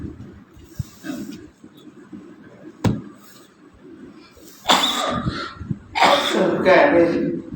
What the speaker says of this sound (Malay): saya batuk pun tak hilang lagi